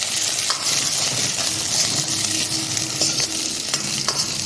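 Chilli chicken frying in a pan with mint and other greens, a steady close sizzle with repeated scraping stirs of the spoon throughout.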